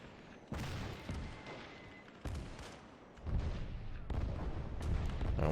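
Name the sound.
naval artillery bombardment in an Iwo Jima invasion video game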